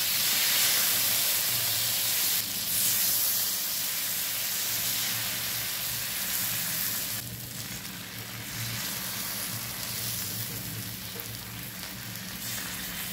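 Ragi ghavne batter sizzling on a hot oiled tawa over a high gas flame, a steady close frying hiss that softens slightly partway through with no talk.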